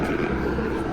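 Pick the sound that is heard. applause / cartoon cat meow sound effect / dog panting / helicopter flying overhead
helicopter flying overhead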